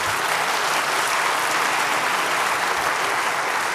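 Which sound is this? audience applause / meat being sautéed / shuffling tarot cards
audience applause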